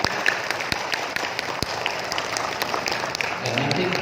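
An audience of teachers at an Indonesian education gathering claps together, a steady wash of applause with a few sharper individual claps standing out near the start and voices murmuring underneath.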